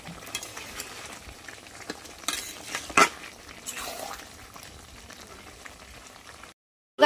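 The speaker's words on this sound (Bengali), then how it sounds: "তো আমার দেখো মাংস কষানো প্রায় শেষের দিকে।" Meat braises and is stirred in a pan. A low, continuous sizzle and bubbling run under occasional spoon scrapes and one louder clank. The sound then drops abruptly into silence just before the end.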